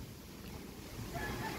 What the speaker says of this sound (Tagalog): Gutay-gutay na sa hangin yung trapal oh.